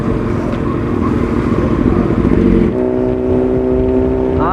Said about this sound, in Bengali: তোমরা একটুখানি ফিল করো অ্যারো ফুল সিস্টেমের আওয়াজটার